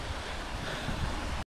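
Water rushing over smooth rocks at the Lingala Gattu waterfalls, a steady, close, broadband roar with wind buffeting the microphone, cutting off abruptly at the end.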